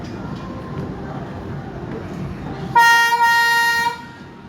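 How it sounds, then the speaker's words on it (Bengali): A loud train whistle sounds in one sustained, steady blast lasting about a second, cutting in over a busy outdoor crowd murmur at the Foy's Lake amusement area. "ওই যে ট্রেনের হুইসেল দিচ্ছে।"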